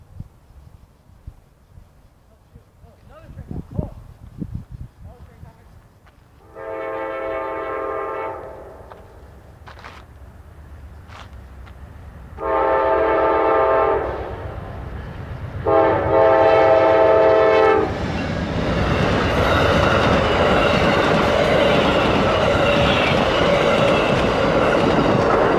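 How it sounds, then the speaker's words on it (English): Amtrak passenger trains meeting on the line: three long horn blasts from a northbound train sound a few seconds apart, then a loud, steady rush of rail cars passing close by with no talk. "That was northbound Amtrak 90 to Palmetto. Just met Amtrak 95."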